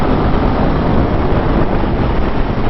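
Strong wind buffets the microphone while riding a 2021 Aprilia Tuono V4 Factory motorcycle at speed, a dense, loud, continuous roar with no speech.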